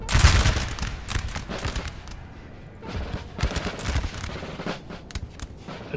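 Ragged volleys of grenadier musket fire crackle across a Napoleonic-era battlefield in Napoleon Total War, bursts of overlapping shots rising and falling over several seconds, dense and close with distant reports behind.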